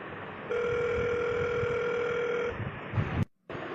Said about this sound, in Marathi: थांब, मनाला फोन लावू आपण